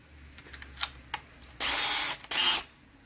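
Small handling clicks and taps as a Pro Plug bit is fitted into a power drill's chuck, followed by two short whirring bursts of the drill spinning freely, close by with no talking.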